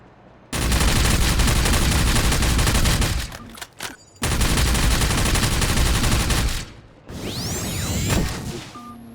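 A pulse rifle in a Half-Life 2 roleplay game fires in two long, rapid automatic bursts, loud and close, with a brief gap between them, followed by a whooshing, sweeping energy effect.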